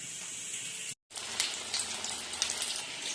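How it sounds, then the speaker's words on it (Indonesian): Battered tofu mendoan, coated in rice flour and wheat flour batter, frying in hot oil with a steady, quiet sizzle and crackle, briefly cut off and then resuming. "kita goreng bikin mendoan tahu"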